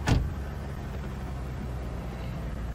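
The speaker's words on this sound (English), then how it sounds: "She closed her car door and then drove off without answering anything" A car door shuts with one sharp, close thud, then the engine's low, steady rumble carries on as the car pulls away, with no voices.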